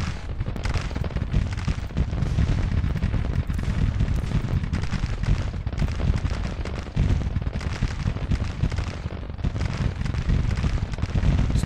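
Civil War troops firing at will in the strategy video game Grand Tactician: a continuous, dense crackle of musketry and distant booms, steady and unbroken throughout.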